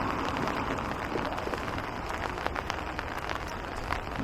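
Steady rain patters across surfaces on a walk through Todoroki Valley, a continuous soft hiss dotted with brief sharper drops, moderately loud and without speech.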